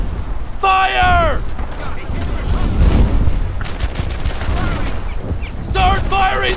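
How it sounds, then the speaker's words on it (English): Rifle gunfire in the World War II shooter Brothers in Arms: Earned in Blood, loud rapid volleys and bursts close by, with soldiers shouting over the shooting. "Start firing there!"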